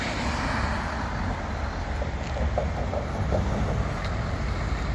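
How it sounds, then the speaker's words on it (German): A Rheinbahn line 7 tram pulls into Düsseldorf main station amid street traffic, giving a steady low rumble and rolling noise with faint squeals, close and continuous, and no talking. "Und da kommt schon auch eine solche Straßenbahn auf Linie 7."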